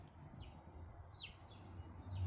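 Small birds chirp outdoors near a porch, a few brief high chirps scattered over a steady low background rumble, fairly faint and distant.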